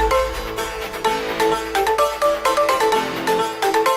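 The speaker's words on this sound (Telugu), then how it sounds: "నీ కోసం ఇప్పుడే చిరుమామ కాల్ చేసి అపాయింట్మెంట్ తీసుకుంటా." A phone ringtone plays as a call is placed, a bright repeating melodic tune sounding steadily and fairly loud throughout, with no voices.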